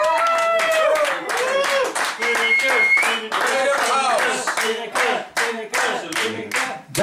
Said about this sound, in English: I want a big applause